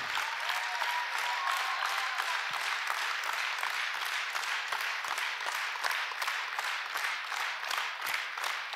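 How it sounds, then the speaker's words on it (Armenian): Sustained applause from a large crowd, steady and dense throughout with many overlapping claps. "ձեր ծափերը թող հնչեն"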